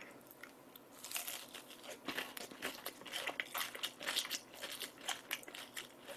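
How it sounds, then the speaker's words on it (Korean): Crunchy Pizza Hut rice chicken is bitten and chewed close up, a rapid series of crisp crackling crunches that build and continue steadily with no talking. "자, 요거, 요거 또 먹어볼게요. 쌀치킨이랍니다."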